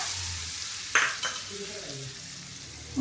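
Tempering spices crackling and sizzling in hot oil for kadhi, close up, with two quick stirring clicks near the start and a steady hiss after.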